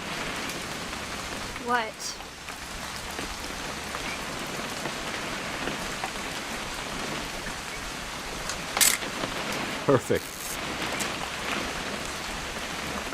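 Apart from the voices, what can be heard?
rain in the video game What Remains of Edith Finch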